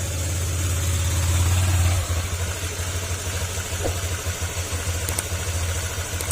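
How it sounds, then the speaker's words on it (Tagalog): After a crankshaft repair, a car engine idles smoothly nearby with a steady, even low rumble. It eases slightly lower after a couple of seconds, and no one speaks. "Ayan, smooth na yung ikot niya mga sir."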